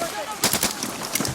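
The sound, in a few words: machine gun and assault rifle fire in combat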